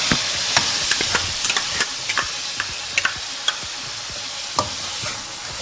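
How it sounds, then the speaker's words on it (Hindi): Ginger-garlic paste sizzles in hot oil in a chicken karahi over high heat, with a steady fry hiss broken by sharp irregular clicks and scrapes of a spoon stirring against the pan, close and without talk. "अभी हम साथ ही इसमें शामिल कर देंगे अदरक और लहसुन का पेस्ट।"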